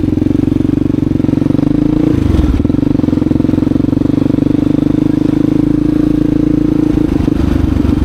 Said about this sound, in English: We'll try to pop us a wheelie down here.